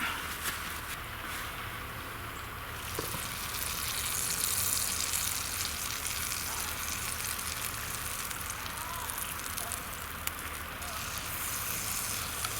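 Butter melting and sizzling in a pan over a wood gas stove, a steady soft hiss with faint crackling from the burning wood, continuous throughout at moderate level.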